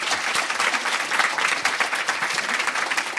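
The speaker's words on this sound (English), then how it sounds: "let's give our panelists a round of applause" Steady, loud applause from an audience for a student panel, dense clapping filling the whole stretch without a break.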